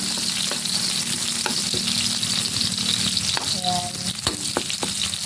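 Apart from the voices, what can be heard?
sautéing garlic, onion and ginger in a pan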